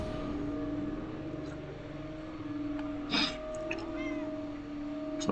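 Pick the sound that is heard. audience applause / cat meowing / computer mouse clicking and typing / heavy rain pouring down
cat meowing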